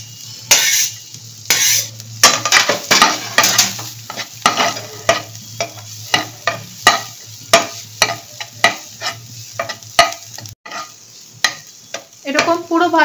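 Chopped garlic sizzles in a pan with onion while a utensil stirs and scrapes it in quick irregular strokes, with occasional metallic clinks over the steady frying hiss.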